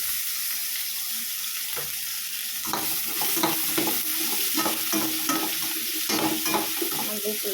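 Vegetables for sambar, sprinkled with turmeric, sizzle steadily in a hot pan while a utensil scrapes and stirs them in repeated strokes, close by with no talking.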